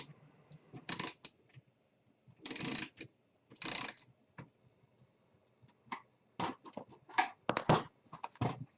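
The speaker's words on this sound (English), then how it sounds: "you need to get the access panel bolts / screws taken off depending on your model" A ratchet works the bolts and screws of the access panel on an early-2000s GE dishwasher, with sharp metallic clicking bursts coming in irregular clusters and quiet gaps between them.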